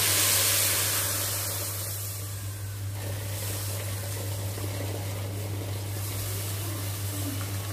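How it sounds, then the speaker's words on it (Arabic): Boiling water pours into a pot of stir-fried bay leaves, cardamom, onion, carrot and tomato, making a sustained rushing hiss and steamy spray that swells at first, then settles into a steady wash. "هنزل بقى ايه بالميه المغليه، لازم ميه مغليه."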